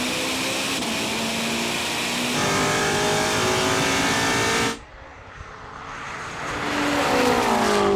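A BMW M5 and a Ferrari SF90 accelerate hard together in a roll-on race from 50 in third gear, a loud sustained engine roar that drops sharply then rebuilds as revs climb again.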